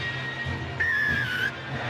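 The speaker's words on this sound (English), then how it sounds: "Thierry Alibert blows the whistle." A referee's whistle starts a rugby league match between Leeds Rhinos and Hull FC, one sustained shrill blast of under a second over steady stadium crowd noise.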